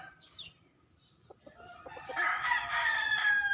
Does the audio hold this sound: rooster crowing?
yes